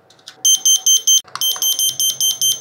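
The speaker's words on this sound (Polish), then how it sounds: "Test zrobiony, działa," Carbon monoxide detector being tested in a home near a newly installed pellet stove, giving loud, near, regular electronic alarm beeps in two bursts, four longer tones then a faster run of six or seven.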